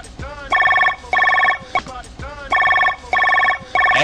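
A telephone bell rings in repeated trilling bursts, each about half a second long and separated by short gaps, loud and close throughout.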